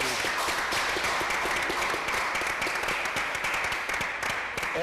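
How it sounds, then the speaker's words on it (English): Sustained applause fills a room at a Canada House event, a dense, even wash of many hands clapping that carries on steadily throughout. "I just want to give you a round of applause."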